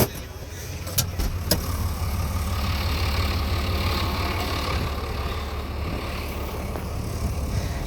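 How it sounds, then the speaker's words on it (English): A Case tractor idles out in a bean field, a steady low engine rumble that holds evenly throughout, with a couple of brief knocks near the start. "I'll park the tractor and I'll show you."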